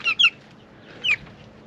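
Big Red Broiler chickens, four-week-old birds outdoors, give two quick high clucks close together and then a third a second later, short and moderately loud over quiet background.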